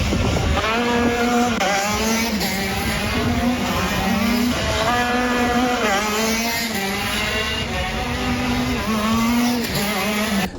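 Several go-kart engines race on a track, a loud continuous buzzing drone with rising and falling pitch as the karts accelerate and pass, steady throughout with no talk.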